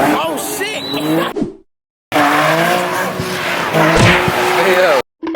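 A Tesla Model 3 drifts at a car meet in Maryland, its tires squealing in loud wavering howls close by, broken by a short silence, with voices in the crowd shouting over it.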